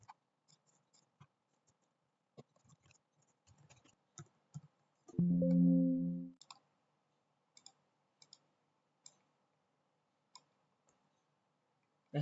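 A computer mouse clicks sparsely and faintly at irregular intervals while a spreadsheet formula is built, quiet dry ticks with one brief louder tonal beep partway through.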